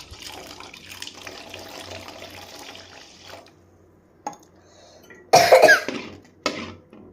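Water is poured into a cooking pot, a brief splashing pour following soft kitchen handling noises, with a low background hum throughout.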